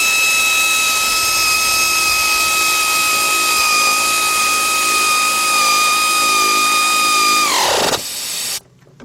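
A power tool with a 3/8 drive and a 15mm deep socket tightens a bolt during a timing belt and radiator job on a Chrysler engine, giving a steady high whine for about eight seconds that ends in an abrupt drop.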